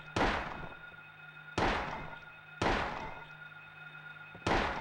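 Gunshots in the Silent Hill video game: four heavy, booming reports, each followed by a decaying tail, spaced about a second apart and heard alone, with a faint low hum underneath.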